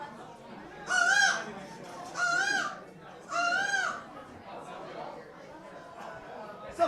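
A comedian on stage in a bar imitates a bird call with his voice, three loud warbling whoops in a row, followed by a murmuring crowd.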